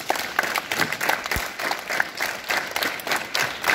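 Students at a school assembly clap their hands together in a loose, sustained burst of applause, fairly close and steady for several seconds, with a few sharper claps standing out.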